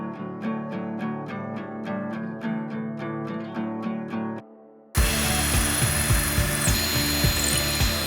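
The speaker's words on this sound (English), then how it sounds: "Let the drill bit do the work" Evenly spaced ratcheting clicks, a short pause, then a loud, harsh drill grinding continuously as the bit bores through wood for cabinet hardware.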